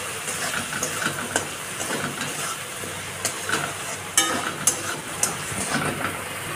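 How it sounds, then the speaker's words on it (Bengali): Masala spices with salt, turmeric and sugar frying in oil for ghugni, a crackling sizzle under a hiss, with several sharp clinks and scrapes of a spoon against the pan. "মশলাটাকে ভালো করে কষবো যতক্ষণ মশলা থেকে তেল না ছাড়ছে"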